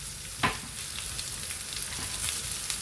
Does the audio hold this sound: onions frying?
yes